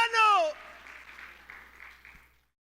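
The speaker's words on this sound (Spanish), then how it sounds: "Denle una ofrenda de palmas al Rey" A church congregation applauds at a sermon; a raised voice calls out briefly first, then a soft, steady patter of clapping continues and fades away.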